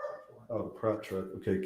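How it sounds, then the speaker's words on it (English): Several short dog barks, some of them yips, come in quick succession under a person speaking, the barks and the talk overlapping at a moderate distance. "If you guys hear a dog barking,"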